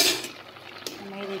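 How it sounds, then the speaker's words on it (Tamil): A spoon scrapes and clinks against a pot while egg biryani rice is stirred, a short burst of metallic scraping with a sharp clink partway through, close and moderately loud. "அடி பிடிக்காமல் இருக்கிறதுக்கு கொஞ்சம் கிளறி விட்டுக்கிடுங்க"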